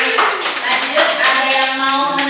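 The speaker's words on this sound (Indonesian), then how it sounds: "Tepuk tangannya dong buat guru." Applause for a teacher in a school classroom: a short burst of many hands clapping together, close and fairly loud, with some voices mixed in.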